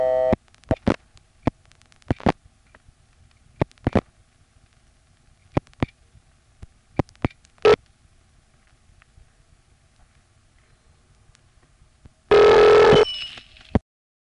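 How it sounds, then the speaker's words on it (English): An intra-office call on a step-by-step telephone exchange: sharp mechanical clicks and stepping switch clacks scattered through quiet, then a loud burst of busy or ringing tone near the end. "Here's an intra-office call dialed as 2 plus the last 4."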